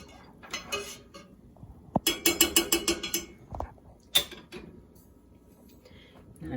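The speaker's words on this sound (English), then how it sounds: "I'm going to turn on my burner" A kitchen stove burner being switched on while goat's milk is warmed for mozzarella: a fast run of ratcheting igniter clicks with a sharp knob turn before it, then a single click, close and moderately loud.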